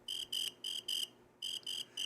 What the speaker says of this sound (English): Nothing. Crickets.